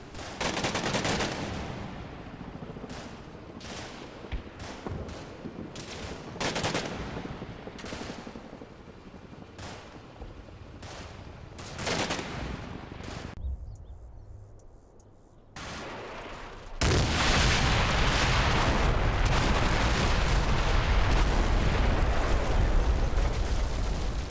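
Gunfire and explosions from air attack runs on a village in the Combat Mission: Black Sea war game. Sharp shots and bursts crack repeatedly over a rumbling background, and a sustained loud roar of fire and blasts sets in for the final seconds.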